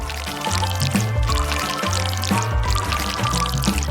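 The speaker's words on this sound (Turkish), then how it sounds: "Çikolata eridi ve şimdi onu Lego şeklinde bir kalıba dökeceğim." Melted chocolate poured into a Lego-shaped mold, a continuous soft pouring stream with no talk.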